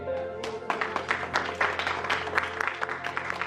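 A church congregation claps along at a fairly low level, a loose mix of individual hand claps forming scattered applause in the room.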